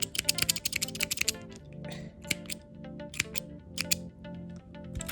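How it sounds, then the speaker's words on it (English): Scissors snip through acrylic crochet yarn at the end of a cookie keychain project, a quick run of close, crisp clicks and cuts followed by a few scattered taps. "and cut the yarn"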